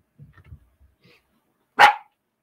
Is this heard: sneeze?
no